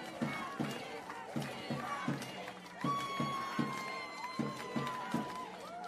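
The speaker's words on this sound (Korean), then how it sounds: "큰 박수 부탁드립니다." Crowd at an outdoor election campaign rally in a station plaza in Yuseong, Daejeon, clapping and cheering for a National Assembly candidate, with rhythmic bursts of applause under an amplified announcer's voice and music.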